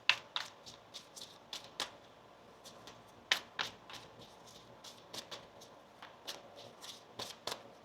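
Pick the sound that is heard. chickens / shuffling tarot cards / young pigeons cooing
shuffling tarot cards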